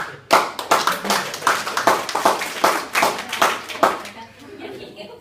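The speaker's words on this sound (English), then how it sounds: "I just want to applause him because he deserves it" A small group at an office month-end meeting claps in a quick, uneven burst of applause that tapers off, with voices and light laughter mixed in.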